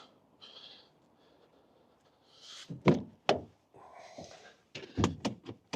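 On a left-hand-drive Renault Kangoo E-Tech Electric small van, the bonnet is released and lifted, giving a few sharp metallic clunks and thumps close by amid quiet rustling and handling noise.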